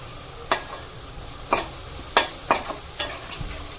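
Crushed garlic cloves sauté in a pan for aloo matar over a low, steady sizzle, with about six sharp scraping strokes of a spatula spaced roughly half a second apart.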